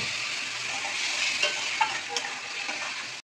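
Spices with salt, turmeric and Kashmiri chilli powder sautéing with a splash of water for jackfruit curry, a steady close sizzle with a few light stirring taps, stopping abruptly.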